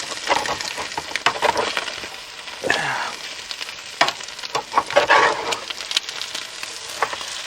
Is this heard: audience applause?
no